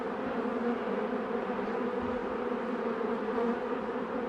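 A steady, dense buzzing of many bees, continuous and close, filling the whole stretch without any voices.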